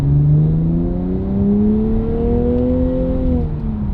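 A Nissan Z in manual mode pulls hard in second gear, its engine note climbing steadily and loudly over about four seconds with a smooth rising drone close to the microphone.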